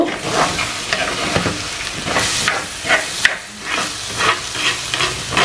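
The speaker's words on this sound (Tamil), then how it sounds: "மீடியம் ஹீட்லேயே அஞ்சு நிமிஷம் இதை நான் வதங்க விட போகிறேன் இடக்கடை கிளறி கிளறி விடுங்கோ" Green jackfruit being stirred and sautéed in a pan over medium heat for Sri Lankan-style cutlets gives a steady, close sizzle, broken by repeated scraping and clattering stirs, with no talking.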